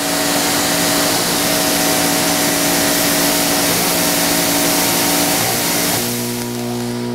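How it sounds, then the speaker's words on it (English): A pressure washer pump runs with air trapped in it, causing pressure problems: a loud, steady, close-up motor drone with a rough broadband roar that shifts to a lower, smoother hum near the end, with no talking. "you can hear the pump just actually running and there's air in there"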